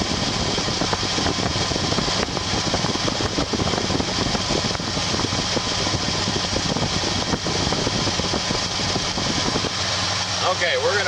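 A car engine idles during an idle adjustment in a shop, holding a loud, steady rumbling drone throughout with little change in level.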